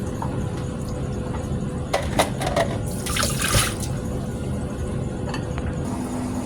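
Walnuts are rinsed under running water in a kitchen, a steady close splashing flow with a few brief clatters and louder gushes partway through, no talk.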